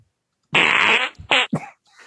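A loud, close fart sound effect rips out in one long sputtering burst, then several shorter wet pops follow in quick succession, set against silence on a podcast.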